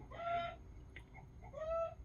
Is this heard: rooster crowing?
yes